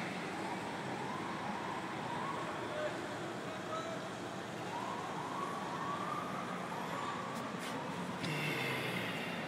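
Police car sirens wail faintly in the distance through city traffic along Broadway during a longboarding event, their rising and falling tones half buried under steady street noise.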